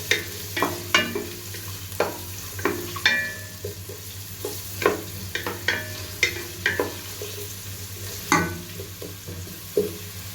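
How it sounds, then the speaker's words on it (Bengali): Chopped onion frying in a pan for lentil khichuri, a steady low sizzle under repeated sharp clicks and scrapes of a spatula stirring at irregular intervals, close by with no talking. "পেঁয়াজ কুচিটাকেও হালকা ব্রাউন কালার করে ভেজে নিব।"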